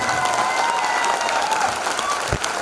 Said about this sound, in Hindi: इन नए लोगों के लिए बजा दे एक जोरदार तालियां।